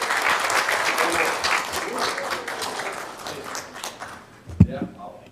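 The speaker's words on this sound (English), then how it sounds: "another big round of applause" City council meeting audience applauds with a steady round of clapping that gradually tapers off, with a thump near the end and voices following.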